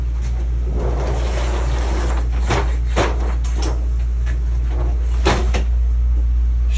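Cabinet doors and drawers in a Passport 2400RB RV are opened and shut one after another, sharp knocks and thuds arriving at irregular intervals over a steady low hum.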